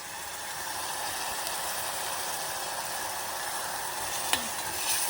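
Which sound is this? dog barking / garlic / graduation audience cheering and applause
garlic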